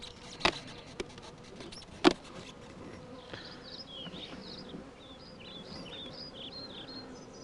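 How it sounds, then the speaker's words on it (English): Bees buzz around an opened beehive during varroa mite dusting, a steady faint outdoor hum with a few sharp clicks and thumps near the start and high chirps drifting in later. "there's going to be an awful lot of bees buzzing around"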